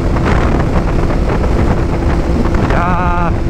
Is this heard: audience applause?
no